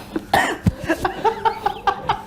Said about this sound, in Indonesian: Batuknya dulu.